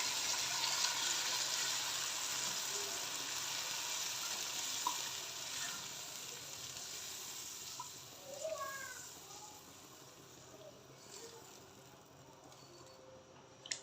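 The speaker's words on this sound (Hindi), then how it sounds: "अभी यहाँ पे इसके अंदर मैं 3 कप पानी ऐड कर दूँगी" Three cups of water poured into oil-fried masala in a pot for a potato and fish kabab curry gravy set off a steady loud sizzling hiss that slowly fades, with a few faint stirring clinks near the end.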